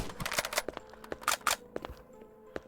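Video game gunfire crackling in quick bursts of sharp, rapid shots, some clustered like automatic fire, mid-distance and fairly quiet against a faint game background.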